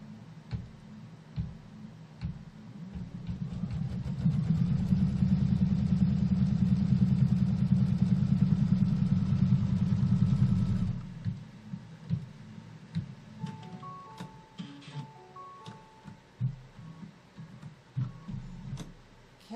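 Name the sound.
embroidery machine stitching to tack fabric down in the hoop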